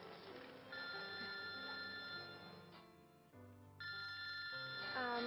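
A telephone rings in a steady electronic pattern of repeated tones over a soft background of music and room noise, fairly quiet, with no talk over it.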